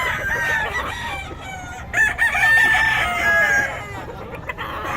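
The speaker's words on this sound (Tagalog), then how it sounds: "Gulo ng manok" Chickens and roosters crowing and clucking at a poultry market in Taguig, several overlapping calls rising and falling across the clip, fairly close and loud amid busy background noise.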